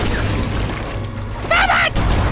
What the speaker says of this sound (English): Stop fucking exploding me!